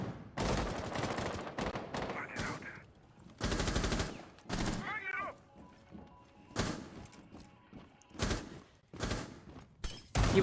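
Bursts of gunfire from a Rainbow Six Siege match crack out in several sharp volleys and rapid automatic strings, separated by quieter gaps with faint game sounds.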